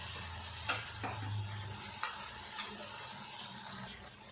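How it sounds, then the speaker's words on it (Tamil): Soya chunks (meal maker) with masala fry in a pan on the stove, with a steady close sizzle and a few scraping stirs of a spoon against the pan, no voices. "இப்போ இந்த மசாலாலாம் நல்லா மீல் மேக்கரில் மிக்ஸ் ஆகிற மாதிரி மிக்ஸ் பண்ணி எடுத்துக்குவோம்"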